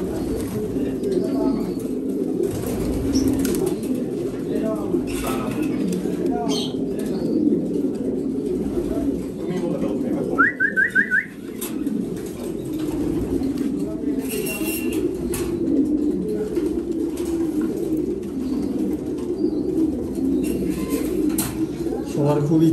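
Racing pigeons coo steadily in a loft, with soft repeated low calls running throughout under a voice, plus a brief higher chirp in the middle.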